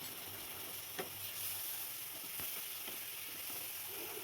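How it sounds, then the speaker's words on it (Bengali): Chili powder masala with a little water fries in a pan for an egg curry, giving a steady soft sizzle with a few light stirring clicks, close by and alone. "অল্প জল দিলাম মশলাটা কষানোর জন্য"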